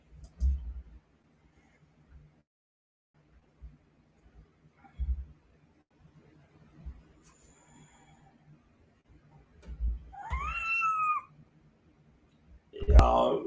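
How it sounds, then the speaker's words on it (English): A pet cat meows a few times indoors, drawn-out plaintive calls rising and falling near the end, between soft thumps and sparse background noise. "My cat is"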